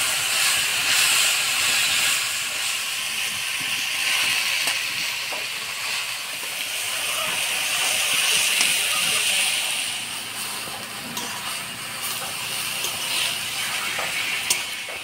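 Bathua greens hiss and sizzle steadily in a hot pan with fish head, mustard oil and spices, a broad continuous frying noise close by that swells and eases slightly.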